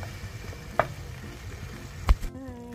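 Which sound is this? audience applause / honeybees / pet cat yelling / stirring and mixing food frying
stirring and mixing food frying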